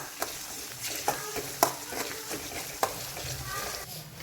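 Ginger-garlic paste sizzles softly in a pan for a spicy chicken masala, with several sharp scrapes and knocks of a spoon as it is stirred, fairly quiet and close.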